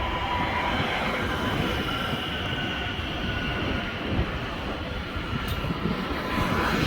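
A RER commuter train rolls through Houilles-Carrières-sur-Seine station, a loud continuous rumble of wheels and rail noise that stays close for several seconds, with no talk.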